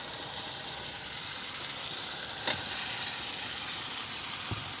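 Cleaned, washed liver pieces hit hot oil with spices, giving a steady, loud broadband sizzle with a brief spike of crackle as they drop in and no voices.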